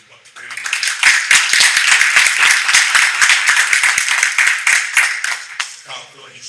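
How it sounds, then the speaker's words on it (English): A short round of applause from a small group at a town advisory board meeting, dense clapping starting abruptly, holding steady for about five seconds, then tapering off. "I do want to give a big round of applause for an officer"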